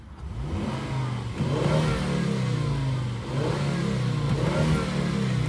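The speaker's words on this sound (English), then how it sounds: "I'll give it a quick little rev." A 2015 Volvo V60 Cross Country five-cylinder engine revved in several rising and falling pulses, each swelling to a strong growl before dropping back; loud, close and continuous, with no talking.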